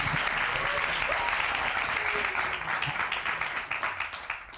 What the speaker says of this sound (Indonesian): Kita kasih tepuk tangan dulu untuk kakak kita.